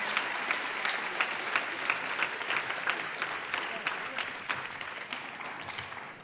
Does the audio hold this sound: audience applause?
yes